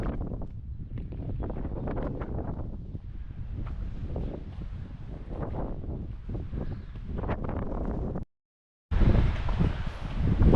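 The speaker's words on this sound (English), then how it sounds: "but it's way too windy." Strong, roaring wind buffeting the microphone on Mount Oxford during a climb, a steady loud rumble with gusts lasting about eight seconds, then a brief cut before the wind resumes, no voices.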